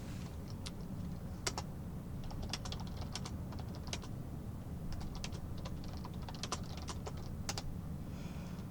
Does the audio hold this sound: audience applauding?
no